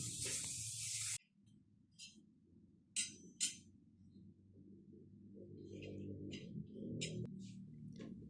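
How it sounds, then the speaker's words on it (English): Blacksmith tongs made from rebar get a WD-40 aerosol spray against rust: one long hissing burst, then several shorter spurts over a low background hum, with no voices. "finally spray WD-40 to protect them from the rust"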